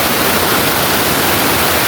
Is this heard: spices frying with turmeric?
no